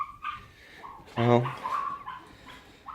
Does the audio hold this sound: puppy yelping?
yes